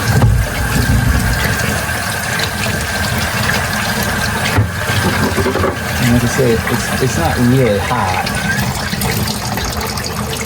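Water gushes and splashes continuously as it drains from a water heater being flushed of sediment, while someone talks over it nearby.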